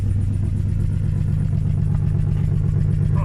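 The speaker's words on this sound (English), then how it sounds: "I cut the exhaust back here so it's making some noise." An Infiniti G35 coupe engine idles with its exhaust cut open, a loud, raw, rapid low-pitched rumble with a steady pulsing beat and some clatter, close and continuous.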